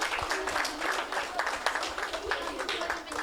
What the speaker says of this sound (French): J'aimerais applaudir les enseignants qui sont représentés par quelques-unes et quelques-uns d'entre eux.